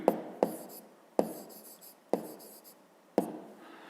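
Someone writes a number by hand on paper, five separate sharp scratchy pen or chalk strokes tapping out at uneven intervals, close and fairly quiet with silence between them.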